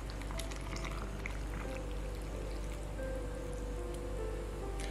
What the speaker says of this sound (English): I'm going to go ahead and just fill it up with water.